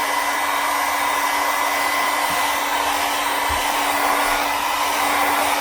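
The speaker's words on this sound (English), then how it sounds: "As the heat gun heats up, slowly sort of make our way to the actual." A heat gun blows steadily at a circuit board while a capacitor is being lifted off, a loud continuous airy roar with a constant motor hum, with no talk.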